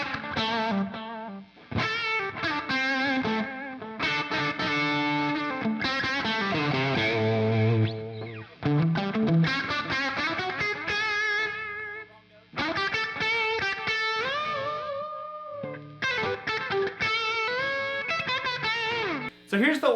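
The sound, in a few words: electric guitar with P90 pickups through Marshall Origin amp with delay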